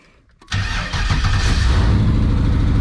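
A 1993 Chevrolet Camaro Z/28 V8 engine cranks briefly and then catches, settling into a loud, steady rumbling idle close to the microphone.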